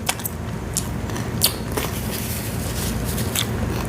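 A crunchy Korean corn dog coated in fries is bitten and chewed up close, with a few sharp crackly crunches standing out over a soft, steady background.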